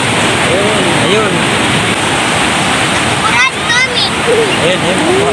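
Ocean surf rolls in steadily at Bagasbas beach, a continuous loud wash of breaking waves close by, with people shouting and calling over the roar throughout.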